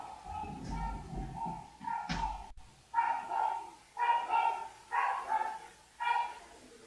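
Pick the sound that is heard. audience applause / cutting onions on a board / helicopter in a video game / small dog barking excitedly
small dog barking excitedly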